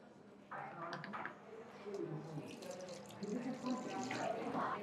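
A horchata mixture pours through a strainer into a bowl as a soft, steady trickle of liquid, faint and close, with a voice talking over it.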